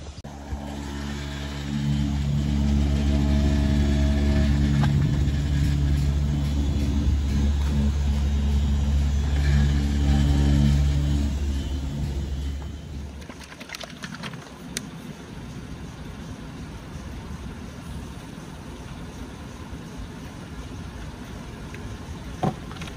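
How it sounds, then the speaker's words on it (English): A Milwaukee polisher with an orange foam pad spins with a loud, steady motor whine for about twelve seconds, then shuts off, leaving faint handling noises and a quiet room. "We're using the Milwaukee polisher along with the Lace Country forced orange pad."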